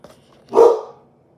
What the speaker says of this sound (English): Sorry about the dog again.